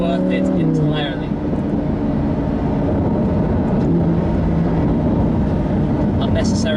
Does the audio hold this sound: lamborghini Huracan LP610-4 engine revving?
yes